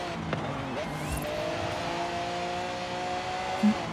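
Lamborghini Aventador J racing in Forza Horizon 5 on the final lap of a seasonal championship, a steady engine drone with faint tire noise throughout, close and continuous.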